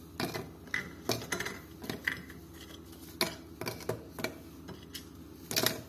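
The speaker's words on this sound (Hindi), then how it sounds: "अब सबसे पहले ये ओरियो इसमें डालूंगी चॉपर के अंदर।" Hard Oreo biscuits drop into a plastic kitchen chopper as a run of sharp clatters and knocks, close and fairly loud, in irregular bursts with short gaps between them.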